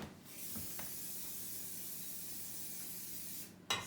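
Grease sprayed from a can onto pie cutters over a kitchen sink, one continuous close hiss lasting several seconds, then a short clatter at the end.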